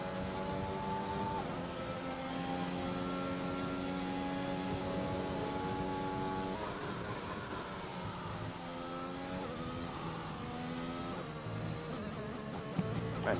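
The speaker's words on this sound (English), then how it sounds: "Let's just listen to this Mercedes engine for this lap." Mercedes race car engine in a sim racing esports event, a steady loud engine drone with clear harmonic pitch rising and falling through gear changes across a lap, with no talk over it.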